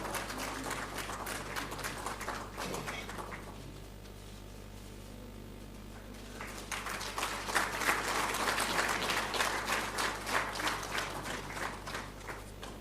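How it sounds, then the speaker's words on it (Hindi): An audience at a national photography awards ceremony breaks into loud, sustained applause. The clapping dips briefly partway through, then swells again with dense, continuous clapping. "जोरदार तालियों के साथ"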